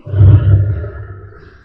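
A lion's roar plays as a sound effect in a Vuforia augmented-reality app: one deep, loud, rumbling roar that swells early and then trails off in a low growl, with no talking.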